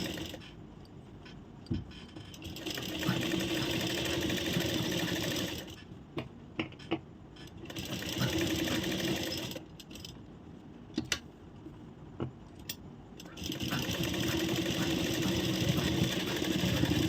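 A sewing machine runs in repeated bursts as it stitches blouse fabric to its lining, a close, steady mechanical whir broken by short pauses and small clicks while the cloth is repositioned.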